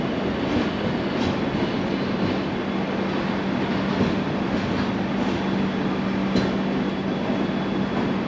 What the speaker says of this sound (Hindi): बिलासपुर के प्लेटफॉर्म नंबर 7 पे लग रही है हमारी ट्रेन